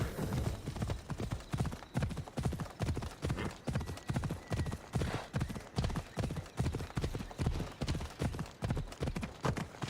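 A horse in a video game gallops in a steady, fast clip-clop rhythm of hoofbeats that carries on throughout, fairly close, with a faint whinny and no clear speech.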